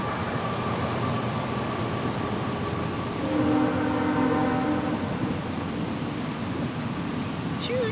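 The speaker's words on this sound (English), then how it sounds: "Choo-choo! I hear the train." A passing train sounds its horn: sustained horn tones rise over a steady rumbling background for a couple of seconds mid-clip, then fade back into the continuous noise.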